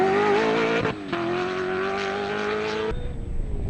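Race cars at the Koster 200 roar past with a loud, steady engine whine. A brief dip and a second car come through before the sound drops away at the end.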